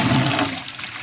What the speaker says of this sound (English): I'm gonna go ahead and fill this with water and show you